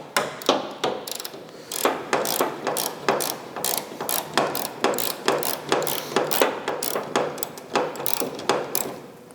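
A ratchet wrench clicks in rapid, regular bursts while fastening hood or fender hardware on a car, each stroke giving a crisp pawl rattle, close and loud with no talking.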